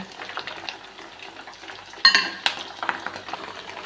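Hibiscus flowers, hibiscus leaves and curry leaves fry gently in oil over a low flame, a soft sizzle broken by stirring clinks and scrapes of a utensil against the pan.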